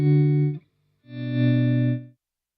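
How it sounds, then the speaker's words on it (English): Electric guitar notes fade in smoothly through a volume pedal, with no pick attack: two sustained, harmonically rich swells, the second rising gradually after a short gap and then cutting off, played alone. "you can hear the volume pedal is taking away the attack of the guitar"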